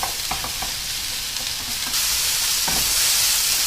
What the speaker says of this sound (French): puis je vais faire revenir le tout 5 bonnes minutes